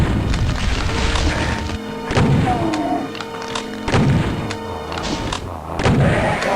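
A shotgun fires in Doom on Sunlust map20, Inverti in Darkness: heavy, booming blasts repeat about once a second over the busy din of monsters and combat.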